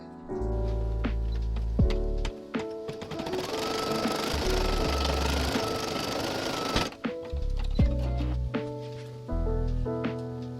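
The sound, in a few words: computerized embroidery machine stitching a patch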